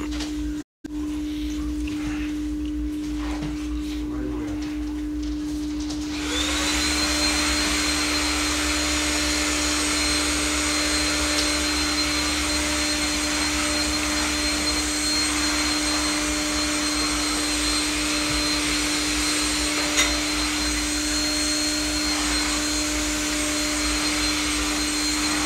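A vacuum cleaner runs during house cleaning, a loud steady whine that rises in pitch a few seconds in as the motor ramps up, then drones on continuously.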